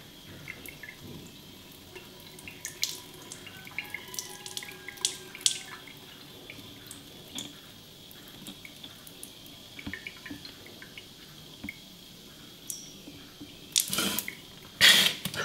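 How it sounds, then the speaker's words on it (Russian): Water trickling and dripping from a nostril during a jala neti nasal rinse, faint intermittent drips and splashes at close range, building to louder sputtering splashes toward the end. "чтобы вода из одной ноздри потекла в другую"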